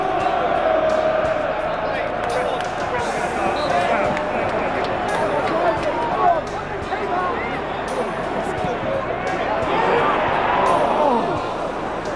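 A large football stadium crowd at a Europa League match, West Ham versus Leverkusen, roars and chants continuously, a dense wall of voices with shouts rising and falling, heard from within the stands.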